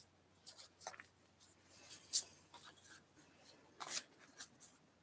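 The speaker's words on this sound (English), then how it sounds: "I'm going to shuffle through them here." Soft, quick rustles and flicks of cards being handled and shuffled, close and quiet, in short irregular bursts with gaps between.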